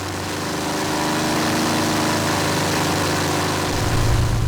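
A Spitfire's piston engine in the A2A Accu-Sim flight simulator, run up to full power for takeoff: a loud, steady droning roar that swells slightly toward the end, heard alone.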